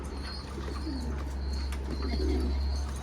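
Pigeon cooing, from a kept or caught domestic pigeon, soft and low under steady background hum, with a few faint chirps from other birds around.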